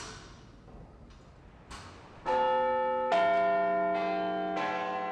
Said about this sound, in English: It's nearly 12 o'clock when Big Ben's bells will chime for their final time.